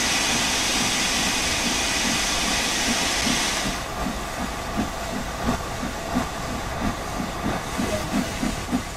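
Steam locomotive starting as the regulator is opened in the Train Sim World 2 game: a loud steady steam hiss cuts off, then rhythmic chuffs begin and grow closer together as the engine gathers speed.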